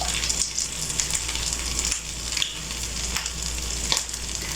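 Egg kebabs fry in hot oil in a home kitchen, giving a steady, close sizzle and crackle that keeps going without a break, with faint bursts of bubbling and a few soft stirring sounds.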